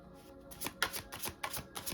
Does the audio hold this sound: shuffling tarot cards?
yes